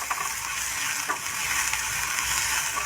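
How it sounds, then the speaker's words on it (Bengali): Chopped onions frying in a pan make a loud, steady sizzle with occasional stirring clicks and scrapes, close up and with no voices. "তারপরে দেব পেঁয়াজ কুচানো, পেঁয়াজটা অল্প ব্রাউন হলে তারপরে হলুদ গুঁড়ো দেবো"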